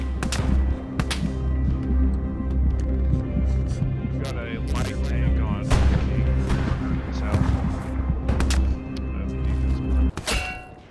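Gunfire in the World War II shooter Hell Let Loose: scattered sharp shots and cracks, some close and loud, others more distant, ring out irregularly over a steady low rumble, with voices talking throughout.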